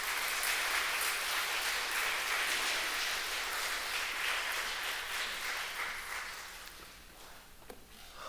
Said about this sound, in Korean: 우리 나오실 때 우리 또 따뜻한 박수로 환영해 주시면 감사하겠습니다